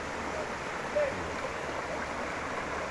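A small freshwater stream in an eco park runs past a natural bathing spot, giving a steady, soft broadband wash of flowing water that stays even throughout, with no voices over it.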